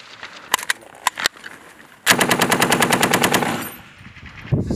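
A machine gun fires a sustained rapid burst of about a dozen rounds during an infantry support-by-fire live-fire exercise, preceded by a few single sharp shots, loud and close with outdoor echo.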